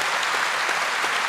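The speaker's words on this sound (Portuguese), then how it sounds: "Eu acho que merece um grande aplauso a Nossa Senhora" An audience at a charismatic Catholic camp gathering applauds, a dense, even burst of clapping that fills the short moment without pause.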